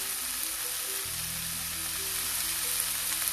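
Onions and tomatoes with salt frying in a pan, a constant bright sizzle that grows slightly fuller partway through, close up with no voices.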